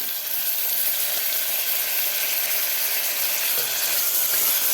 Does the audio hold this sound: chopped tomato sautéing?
yes